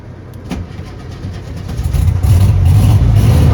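Car engine cranking and starting after a battery disconnect kill switch installation: a short click and churning crank, then the engine catches and settles into a loud, steady idle with a slight rev.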